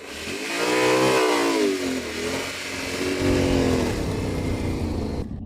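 A Yamaha Tenere 700 adventure motorcycle revs in first gear while drifting, its engine climbing and falling in loud, close sweeps with no talk.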